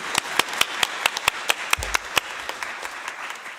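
Applause at a plenary session of a UN biodiversity meeting, with a short burst of sparse, fairly close claps from a small group that thins out and fades.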